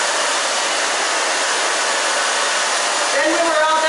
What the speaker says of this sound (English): Then when we're all done drying, we'll make sure the sides are even